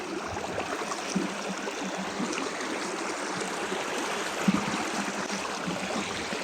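A river flows steadily in South Korea, a continuous close wash of running water with a soft trickling texture and no voices over it.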